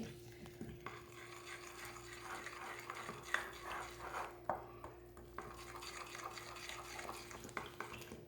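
Fish tempura batter is stirred in chilled water, a soft, steady scraping with faint clinks of utensil against bowl, quiet and close, with no talk.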